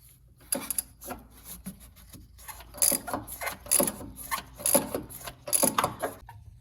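A ratchet works loose the bolts on a Land Rover LR3/LR4 front air suspension, with close, sharp bursts of rapid clicking that repeat several times over a quiet workshop background.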